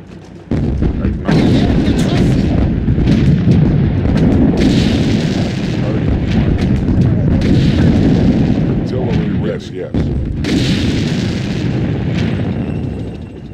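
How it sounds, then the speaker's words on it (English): A World War II artillery barrage in a strategy game, with dense, loud booms and crackling gunfire rolling continuously for over ten seconds and short bursts of clipped voice lines over it. "Artillery ready."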